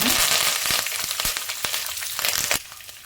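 Curry leaves dropped into hot oil while making coconut rice, a loud close crackle and spluttering sizzle with sharp pops scattered throughout, no talk.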